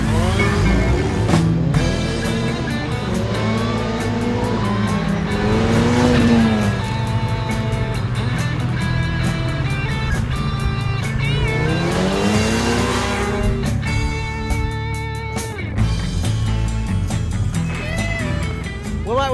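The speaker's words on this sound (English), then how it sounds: "we're going to go for a more time-honoured technique: wheel-to-wheel racing on the track" Ariel Atom, Caterham and KTM X-Bow race cars running wheel-to-wheel on a track, engines droning loudly and continuously with rising and falling revs and occasional tyre noise.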